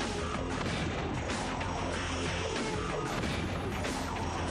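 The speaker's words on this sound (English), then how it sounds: "They're called phase pistols." Phase pistol blasts from a Star Trek: Enterprise TV commercial: dense, loud, crashing energy-weapon fire and impacts that continue without a break throughout, with no speech.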